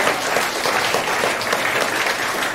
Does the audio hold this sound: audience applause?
yes